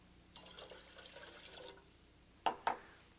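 Water pours into a Regal bread machine pan for about a second and a half, a soft liquid splash, followed by two sharp clinks of the vessel.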